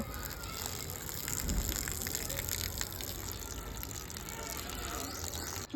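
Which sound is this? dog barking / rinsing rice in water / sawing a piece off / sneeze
rinsing rice in water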